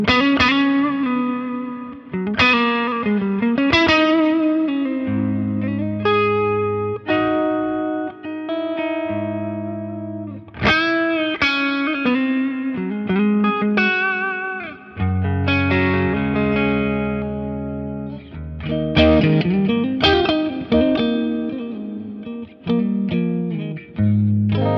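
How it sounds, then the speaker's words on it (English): A Fender Stratocaster played through a JHS Kodiak tremolo pedal with reverb rings out alone as loud, sustained chords and single notes, their volume pulsing in steady tremolo waves with a wash of reverb trailing each phrase. "Let's just get some nice tremolo vibes"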